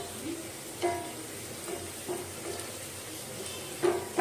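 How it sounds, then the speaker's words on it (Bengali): Jackfruit seeds fry quietly in oil with salt and turmeric, a low, steady sizzle broken by a few soft scrapes of a spoon stirring in the pan. "একটু পরপর আলতো হাতে নেড়ে নিচ্ছি, যাতে লবণ আর হলুদটা সুন্দরভাবে মিশে যায়।"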